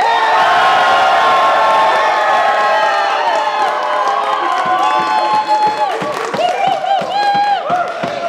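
Loud crowd cheering, whooping and shouting fills the space at a dance battle final, sustained throughout with voices calling out over the din.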